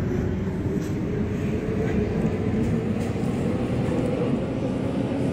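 A C200A metro train on the Warsaw subway, simulated in the OpenBVE train game, rumbles along continuously with a dense, steady low roar of motor and wheel noise, loud and unbroken throughout.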